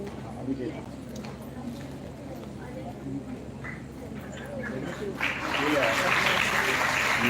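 Quieter sounds and voices fill the opening of a college event honouring arts-faculty teachers. Then a crowd breaks into louder, fuller clapping over the last couple of seconds.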